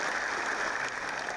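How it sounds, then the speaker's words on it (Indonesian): Brief burst of audience clapping at a question-and-answer session, dense and steady for a moment. "Boleh kita berikan tepuk tangan."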